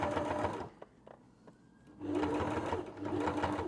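A sewing machine stitches an upcycled leather tote bag in two steady whirring runs, close and moderately loud, separated by a brief quiet pause with light handling clicks.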